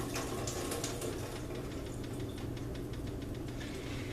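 Liquid from canned vegetables pours steadily into a sink in a kitchen, a continuous close splashing rush that lasts throughout with a faint hum beneath it and no talking.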